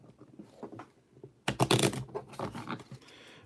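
A deck of Pokémon trading cards being split and shuffled: a soft rustle, then a burst of crisp riffling flutter, close and fairly loud, trailing off into lighter card handling.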